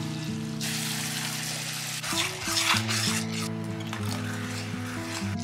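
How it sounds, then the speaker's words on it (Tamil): Ground paste for Bombay chutney goes into a pan of tomato chutney and gets stirred, giving a steady bubbling sizzle with scraping spoon strokes against the pan, loud and close. "இப்ப நம்ம வந்து அரைச்சி வச்சிருக்கிற விழுதை வந்து சேர்த்துருவோம்"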